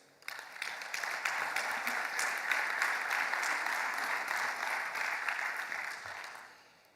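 Sustained audience applause at a business conference, rising quickly and holding steady for several seconds before fading out, with no talk over it.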